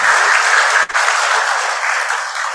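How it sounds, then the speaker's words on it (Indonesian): Applause from an audience at a PLN corporate event, a dense, steady wash of clapping that runs the full length with only a momentary dip near the start. "Aplaus dulu untuk kita semuanya."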